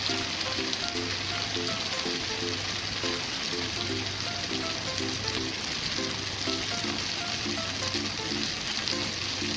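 Masala spices fry steadily in hot oil, a continuous close sizzle that sounds for the whole time, with a faint stirring rhythm and no talking.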